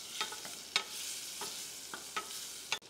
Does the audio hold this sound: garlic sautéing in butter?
yes